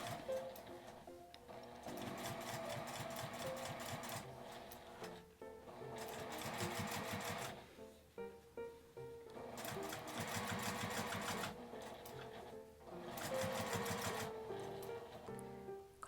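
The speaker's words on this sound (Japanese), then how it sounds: "この印のとこまで縫います" A sewing machine stitches a fabric face mask in several steady mechanical runs of rapid needle chatter. Short pauses fall between the bursts, and the sound is close but fairly soft.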